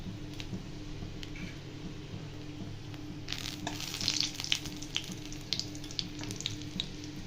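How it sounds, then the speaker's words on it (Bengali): Bay leaf, green cardamom and cinnamon frying in hot oil for a broiler chicken curry give a soft, steady sizzle with scattered light ticks and crackles, a little louder midway through. "ওই তেলে দিয়ে দেবো এবার তেজপাতা, ছোট এলাচ আর দারচিনি"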